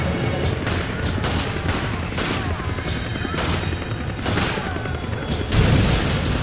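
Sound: rocket launcher fire in video game Resident Evil 5

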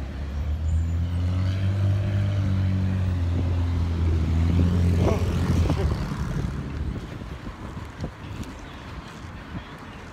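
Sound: cars and trucks driving past on a road

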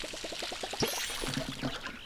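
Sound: watering crops in the video game Palia

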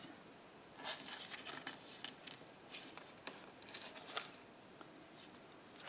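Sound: scissors trimming paper in a journal

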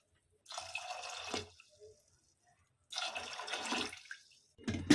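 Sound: water poured into pressure cooker

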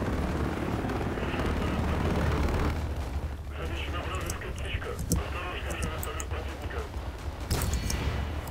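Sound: helicopter in Battlefield Play4Free video game

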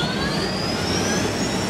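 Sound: jet aircraft engine in the video game Unturned

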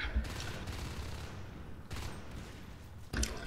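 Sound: gunfire in a video game

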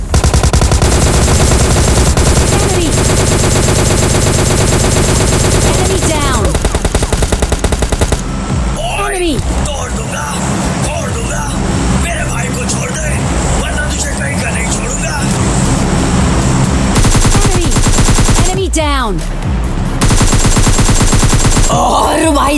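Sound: gunfire from the video game PUBG Lite

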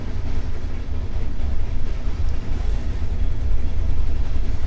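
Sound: train passing by in video game State of Decay 2

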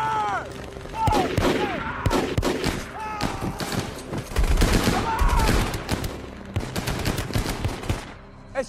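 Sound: tank and gunfire in a war film battle scene

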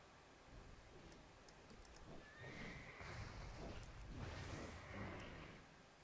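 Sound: horse neighing in video game World of Warcraft

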